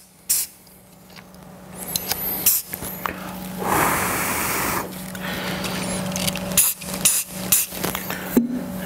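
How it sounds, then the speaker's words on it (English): Adhesive activator sprayed from a can onto glue dabs while fitting audio parts on a 2021-up Harley-Davidson CVO: a steady hiss of about a second and a half, mixed with scattered clicks and handling knocks. "I spray the adhesive activator"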